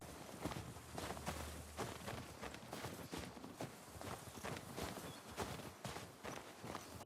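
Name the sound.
horses walking in snow in The Last of Us Part II video game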